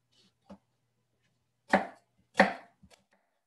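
A knife chops green bell peppers into small dice on a cutting board, giving three or four sparse, crisp cuts with gaps between them, close and quiet, no talking.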